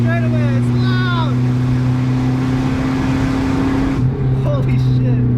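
A 1981 Toyota Corona wagon with a loud aftermarket exhaust driving, its deep steady drone filling the interior, briefly easing off and picking back up, with occasional voices over the engine.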